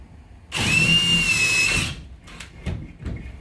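A power drill bores a pilot hole into a wall while mounting a Samsung Frame TV, one loud whining burst of about a second and a half, then quiet handling knocks and taps close by.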